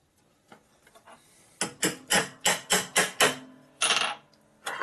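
A hammer strikes a motor part on a 1965 Harley-Davidson Panhead 74ci lower end, about eight sharp metallic blows in a quick steady rhythm after a few light taps, close and clear with no talk.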